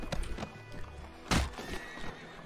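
A horse neighs in the Western game Red Dead Redemption, a loud whinny burst amid hoof clip-clops and game ambience.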